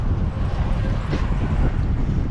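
Strong wind buffets the microphone in a steady low rumble, with faint voices underneath.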